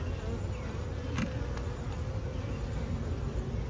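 Honey bees drone in a dense, continuous buzz at an opened hive where a blocked swarm is being inspected, close and steady with a few individual bees passing near.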